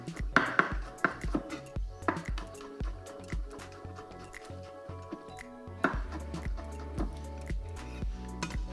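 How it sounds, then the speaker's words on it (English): Garlic cloves sliced thinly with a knife on a board, crisp chopping taps coming in uneven runs, close and moderately loud, with a steady background tone underneath. "I'll grab my garlic. Just some thin slices."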